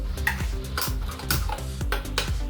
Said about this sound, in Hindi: तो अब मैं इसी में परवल भी फ्राई करूँगी